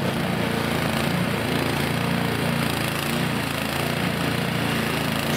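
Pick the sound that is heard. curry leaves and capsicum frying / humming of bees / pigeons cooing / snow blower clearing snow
snow blower clearing snow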